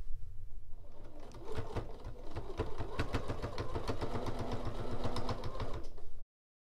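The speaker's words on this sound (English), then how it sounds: "then I will sew it together top to bottom" A sewing machine stitches fabric pieces for a Christmas cathedral window quilt block, running in a steady rapid mechanical clatter close by for about six seconds before stopping abruptly.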